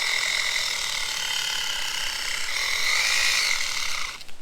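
A small RC car motor with its motor super glued runs steadily and close, giving off a continuous high whirring, gear-like buzz that holds for several seconds and then wavers near the end.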